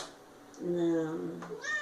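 A cat meows close by, with a drawn-out rising and falling call followed by a shorter second meow, clear and fairly quiet.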